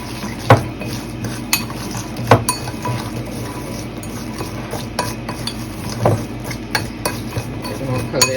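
Walnuts being stirred in a bowl to coat them for an air fryer recipe: repeated scraping and clinking of a utensil against the bowl, in irregular strokes with a few sharper knocks, close and fairly loud.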